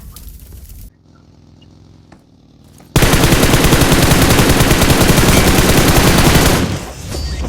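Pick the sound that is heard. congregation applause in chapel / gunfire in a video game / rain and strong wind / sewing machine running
gunfire in a video game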